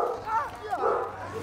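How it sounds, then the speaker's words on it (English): A pet dog indoors gives drawn-out, rising and falling yelps during a Call of Duty: WW2 Zombies session. The dog sounds fairly close and mixes with a voice-like murmur. "my dog is going at it right now"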